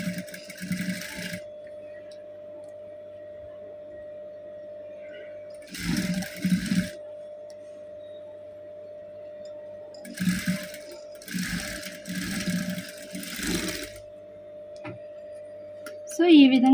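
A sewing machine stitches a blouse sleeve in several bursts of running, with a steady motor hum beneath and short pauses between runs.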